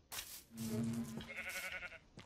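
Minecraft sheep bleat on a one-block Lucky Block survival map, a couple of quavering calls close by over quiet game sounds.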